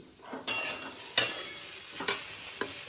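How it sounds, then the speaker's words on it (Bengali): Food fries in oil with a steady sizzle, broken by four scraping stirs at uneven intervals, close and moderately loud. "দেখো অনেকটাই ভাজা ভাজা হয়ে এসছে"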